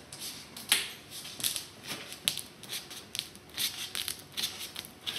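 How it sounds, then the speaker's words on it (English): A new drum head squeezed between two hands around its hoop gives off soft, irregular crackling and ticking as the glue seal breaks, a string of small close crisp pops with no talking. "That's the sound of the glue seal breaking ahead of time"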